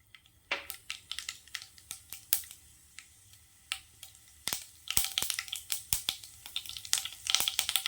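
Mustard seeds and urad dal hit hot oil in a kadai, popping and crackling with sharp, close snaps, sparse at first and then thickening into a busy spatter over a low sizzle.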